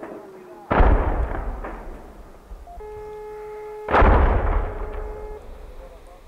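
Rocket shelling hits the town of Al-Lataminah in northern Hama countryside amid a barrage of over a hundred rockets. Two heavy, booming blasts land seconds apart and are followed by rumbling decay, with a faint electronic tone between them.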